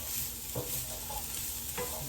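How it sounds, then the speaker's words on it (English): Cut vegetables frying in a cast iron pan, a soft continuous sizzle with a couple of brief stirring scrapes, close and fairly quiet, without speech. "I now have the veggies all cut and in my cast iron."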